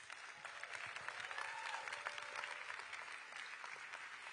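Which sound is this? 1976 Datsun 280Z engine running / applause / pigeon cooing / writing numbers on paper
applause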